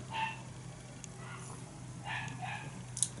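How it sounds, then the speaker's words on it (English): A neighbour's dog barks in short, distant yips and bow-wows scattered across a few seconds, faint over a steady low indoor hum. "Neighbour's dog's going crazy again."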